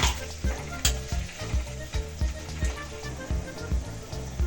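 Capsicum pieces fry in a hot pan, a continuous close sizzle with rhythmic scraping and stirring strokes at a steady pace, without any talk.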